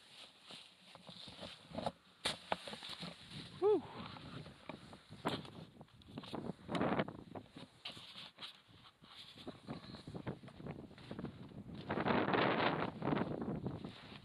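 Wind gusts buffet a wild camp pitched high on a winter mountain ridge along a Roman road, rushing in uneven surges with bursts of rumbling microphone buffeting and a stronger gust near the end, faint overall and with no talking.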